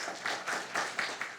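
A conference audience at a think tank summit opening applauds to welcome Taiwan's Deputy Minister of Economic Affairs, with faint, soft clapping that pulses in uneven waves.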